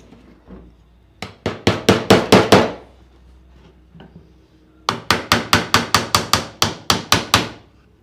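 Hammer driving nails into a wooden drawer: two close, loud bursts of rapid, evenly spaced blows, about seven strikes in the first run and ten in the second, separated by a quiet pause.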